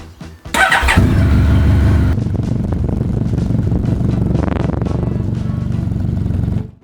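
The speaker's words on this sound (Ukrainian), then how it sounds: "Обов'язково прогрійте двигун мотоцикла." Motorcycle engine warming up before an oil change: it cranks and catches with a roar, then settles into a close, steady, loud idle with a brief throttle rise near the end before cutting off.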